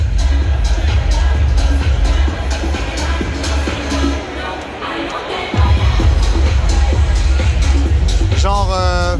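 A big crowd at the Indianapolis 500 fills the air with dense babble and murmur, with someone talking close by over it and a sudden sweeping tone near the end.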